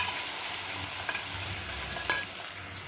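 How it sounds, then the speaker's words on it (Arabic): Fried garlic tempering is poured into a pot of mallow stew, giving a dense, continuous sizzling hiss up close, with a brief louder burst partway through and no voices. "نعمل التقليه بقى يا بنات بتاعت الخبزه. ونطش طشتنا."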